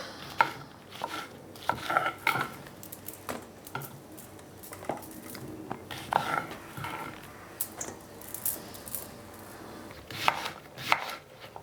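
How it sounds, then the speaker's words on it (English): A kitchen knife chops mushrooms on a board while vegetables are prepared for a spring stir-fry, giving close, irregular bursts of sharp chopping taps with short pauses and no talking. "Again, just chop them whichever way you fancy eating them."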